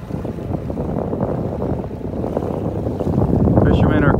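A motorboat throttles up heading out of a pass into the Gulf off North Naples, Florida, a steady low engine drone, rising toward the end, heard from shore under wind noise on a calm day.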